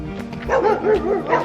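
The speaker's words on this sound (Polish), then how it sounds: "Słyszycie te biedne psiaczki, biedne psiaczki, aż serce się kraja." Several dogs in an animal shelter bark and yip in quick bursts, near and loud, with whimpering in between and an echoey indoor feel.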